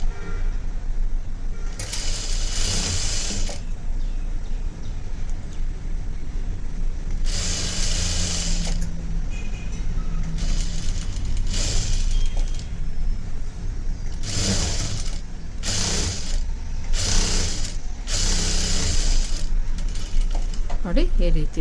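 Sewing machine stitching the edge of a design blouse, running in repeated short bursts of rapid whirring separated by pauses, with someone talking in between.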